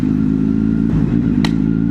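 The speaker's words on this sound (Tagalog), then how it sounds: "Nag-backfire si kuya. Or misfire pala." Motorcycle on a road, engine idling with a steady low throb, a dull thump near the middle, then a single sharp crackling pop from a backfire or misfire.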